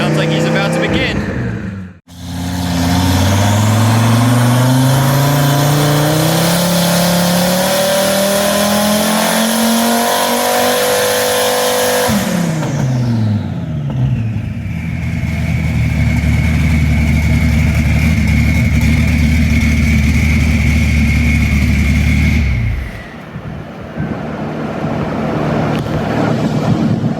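A twin-turbo second-generation Dodge Viper engine on race fuel makes a dyno pull, revving up loud and rising steadily for about ten seconds, then dropping back to a rumbling idle with turbo whine, before a second surge and cutoff.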